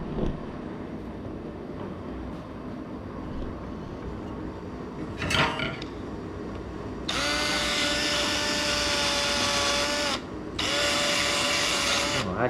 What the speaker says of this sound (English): I'm going to clean up this grill here if I can using my drill